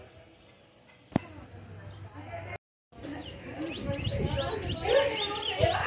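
A sayaca tanager sings outdoors in nature, giving short high chirps and tweets in scattered bursts, fairly faint, with a brief silent gap midway and busier birdsong and background noise afterward.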